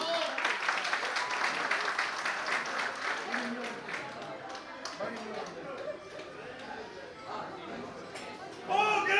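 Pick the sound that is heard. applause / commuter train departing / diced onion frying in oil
applause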